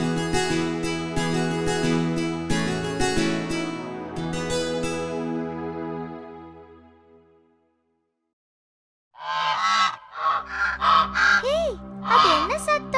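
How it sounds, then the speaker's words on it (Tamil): Honking waterfowl calls in the second half, several quacks in quick succession, following a stretch of tonal music that fades to silence. "அது வாத்துகளோட சத்தம்"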